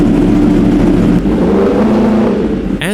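A Yamaha R1 sport motorcycle, an abused former track bike fitted with a new battery, idling while warming up: a loud, steady close-up engine drone with slight shifts in pitch, alone without talking.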